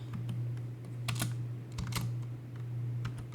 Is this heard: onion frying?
no